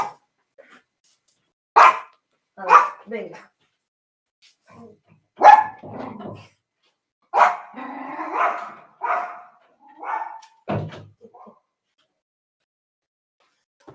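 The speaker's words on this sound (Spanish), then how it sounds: "Esperen un momentito que voy a sacar el perrito que está aquí." A small pet dog barks in short separated bursts, several sharp yips spread over the span with quiet gaps between, close by, and someone says a few words.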